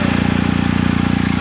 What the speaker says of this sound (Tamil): எக்ஸாஸ்ட் நோட் கேட்போம். ஸ்டார்ட் பண்ணுறேன்.